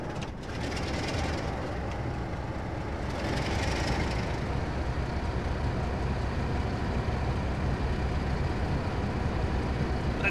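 A train runs in the zombie video game Trains vs Zombies, giving a steady, dense mechanical rumble that holds at constant loudness throughout with no break.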